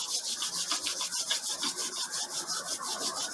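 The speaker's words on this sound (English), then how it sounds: "we're going to rub our hands 9 times" Palms rub together briskly in a steady back-and-forth rhythm, a close, dry swishing repeated about nine times with no talk.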